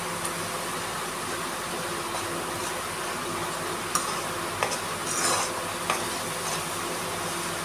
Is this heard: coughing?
no